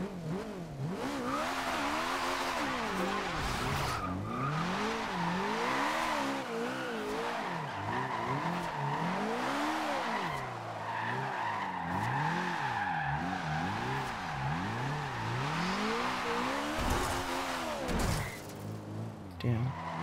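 Drift car in Forza Horizon 2 on dry asphalt after rain, engine revving up and down in sweeping waves with tires squealing through long continuous slides, loud and close throughout.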